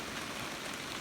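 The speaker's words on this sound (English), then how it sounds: "And it just started to rain." Light rain just beginning to fall outdoors in cooling summer weather, a faint, steady, even patter-hiss that holds without breaks and has no voices over it.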